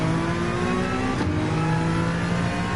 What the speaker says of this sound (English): you really got to rev it out, otherwise you're really losing out on its potential